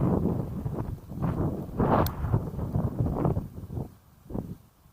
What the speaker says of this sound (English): You guys picking up that wind noise?